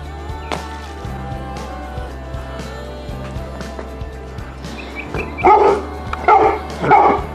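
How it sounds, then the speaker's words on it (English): A chocolate Labrador by a swimming pool gives three loud barking bursts close by near the end, after several seconds of steady background hum with scattered knocks. "I'm going to use my other camera to watch Cinder have a little fun in the pool"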